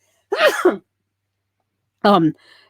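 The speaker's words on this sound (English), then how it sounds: "I'm going to sneeze." A single sharp sneeze bursts out, then after a pause a short vocal exhale or gasp follows, both close and loud against silence.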